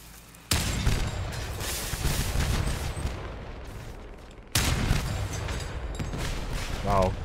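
Heavy cannon shots in the Crossout vehicle combat game, with two loud booming blasts each followed by a long rumbling decay, set against steady battle noise.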